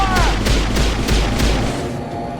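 Suppressing gunfire rattles in a video game, a rapid burst of closely spaced shots over a low boom for about two seconds, then tapering off.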